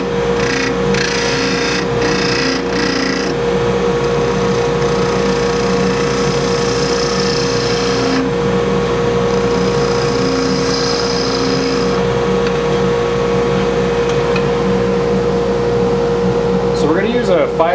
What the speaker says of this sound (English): Using a carbide cutter again.